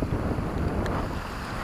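Steady wind buffets the microphone over a low engine rumble and rushing water from a fishing boat crossing open sea toward Seco Island, near Boracay.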